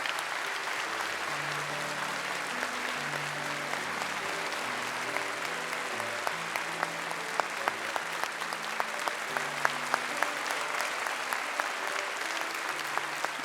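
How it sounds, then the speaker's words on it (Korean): A church congregation gives big applause during a gift presentation at a service honouring a retiring senior pastor, a steady, fairly distant wash of many hands with sharper individual claps and soft organ-like tones sustained beneath. "나오셔서 전달하실 때 큰 박수를 보내주시기 바랍니다"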